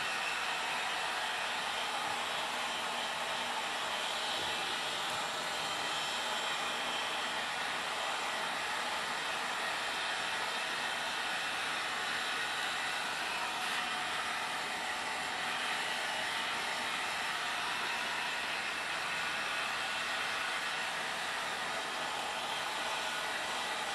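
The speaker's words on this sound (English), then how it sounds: "it's just a matter of grabbing our heat gun and shrinking it down" A heat gun blows steadily while shrinking heat-shrink tubing onto an LED flex tube, a constant airy whoosh holding unchanged from start to finish with no talk.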